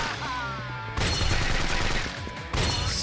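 Machine gun fire in the action game Yakuza 5, a dense, loud stream of rapid shots layered over the game's steady music and effects, swelling again near the end.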